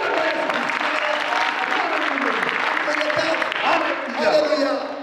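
Congregation applauding in a church, a dense, steady wash of clapping that holds at an even loudness for the whole stretch and swells slightly near the end, with a busy crowd murmur mixed in.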